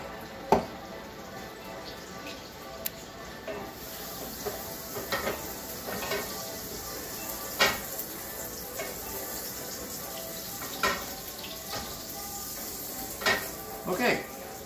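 Butter, about a tablespoon, heating in a pan: a steady faint sizzle with scattered light pops and occasional clinks of a utensil against the pan, no talking.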